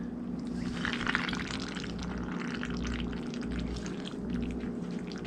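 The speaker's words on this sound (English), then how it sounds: "We're gonna go ahead and fill up some water in this." Water steadily pouring into a teapot, filling it toward the bottom lip in a home kitchen, a continuous close splashing gurgle running uninterrupted throughout with no talking.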